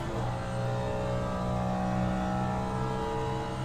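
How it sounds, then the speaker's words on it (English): Steady engine drone from a car in a racing video game running on soft tires, with wind and light rumbling, a constant mid-level hum holding the same pitch throughout without distinct revs. "Should be a couple of more decibels on the engine now."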